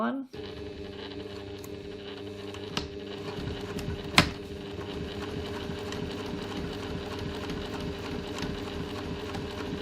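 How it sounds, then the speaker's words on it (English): A sewing machine topstitches with a zipper foot near piping on a reusable grocery bag, a steady, fairly quiet mechanical whir with a rapid regular needle rhythm and one sharp click partway through. "I'm just going to stitch down as close as I can with my zipper foot."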